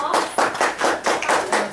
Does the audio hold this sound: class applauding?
yes